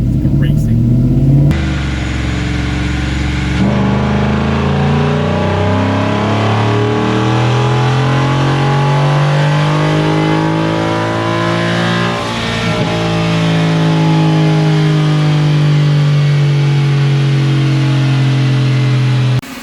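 Ford F150 with a 10R80 transmission revving hard on a dyno, a loud sustained engine roar with rising and shifting pitch sweeping through the gears, with people talking over it.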